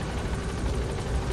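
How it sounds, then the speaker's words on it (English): A helicopter in the video game Metal Gear Solid V comes in to land, its steady rotor thrum and engine drone filling a brief stretch with no talk. "And do you hear that my helicopter plays Ride the Valkyries when I land?"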